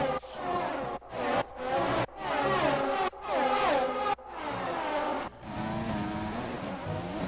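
A Formula 1 car engine in the F1 2020 video game revs hard in repeated high-pitched bursts, cutting off sharply between gear shifts and corners, loud and close with no talk.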